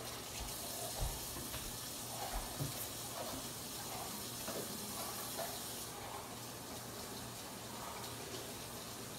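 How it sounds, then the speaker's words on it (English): Tap water runs steadily into a kitchen sink while hands are washed after handling raw meat, a constant soft hiss with faint splashes and occasional clinks, moderately distant and fairly quiet. "Now I'm going to wash my hands because I did touch the meat"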